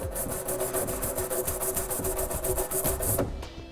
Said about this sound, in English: take a little bit of spray lubricant and a nylon tube brush to clean it out